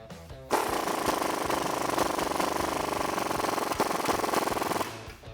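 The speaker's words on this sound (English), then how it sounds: "grab your 15/16 socket for the nut and 21 socket for the bolt head and tighten them down" An impact wrench tightens the strut nut and bolt on a 2006-2018 Ram pickup during a leveling kit install, firing one loud, continuous rapid hammering burst for about four seconds up close before cutting off.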